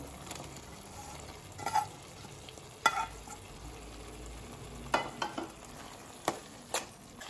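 Fried raw banana pieces stirred into a boiling masala in a pan, with a faint bubbling hiss under scattered sharp scrapes and knocks of a spoon against the vessel.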